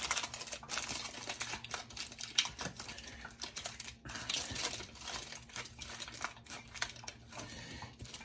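Thin foil for a hookah being folded and pressed by hand, a steady close crinkling and rustling with small sharp crackles running throughout, no speech.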